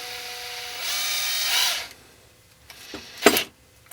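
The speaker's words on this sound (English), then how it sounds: "you'll hear like a ratcheting clicking sound. It's a ratcheting chuck that lets you get it really tight" A Bosch 18V DDS181-02 cordless drill whirs briefly while its ratcheting chuck tightens on a drill bit, followed by a short burst of clicking near the end.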